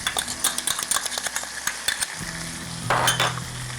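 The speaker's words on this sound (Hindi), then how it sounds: "और अब हम इसको मिक्स करेंगे।" Chicken karahi masala stirred and sizzling loudly in a hot pan, steady frying hiss broken by repeated scraping strokes of a spoon against the metal, close and alone without voices.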